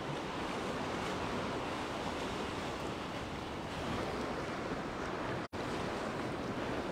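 Rough, churned-up sea waves along the beach promenade in Side, Turkey, a constant loud roar of surf with wind buffeting the microphone and one momentary cut.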